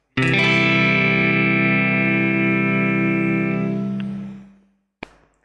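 A single strummed guitar chord with an added 13th rings out with a bright, slightly distorted tone, sustaining for about four seconds before fading, followed by a faint click.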